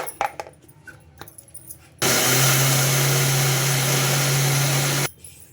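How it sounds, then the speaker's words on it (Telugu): A few soft clicks and knocks, then a mixer grinder grinding bottle gourd dosa batter whirs loudly and steadily for about three seconds before stopping abruptly. "స్మూత్గా గ్రైండ్ చేసుకోవాలండి"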